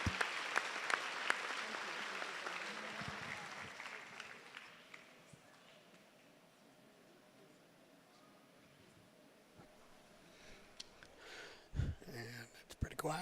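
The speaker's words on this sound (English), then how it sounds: "give a real round of applause for the appreciation of these young people" A state fair livestock show audience gives a round of applause for young 4-H exhibitors, clapping loudly at first and then fading to a quiet room, with scattered noises and a voice near the end.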